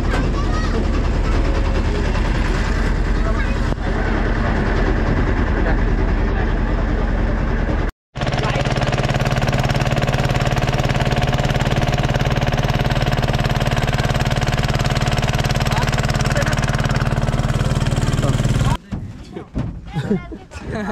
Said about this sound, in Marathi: बघू शकता बोट वगैरे चालू झाले.